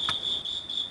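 Crickets chirp in a steady, continuous high trill with slight pulsing, fairly close and alone, heard near a workshop during a steam engine build from a shallow well pump; a brief soft thump sounds near the start.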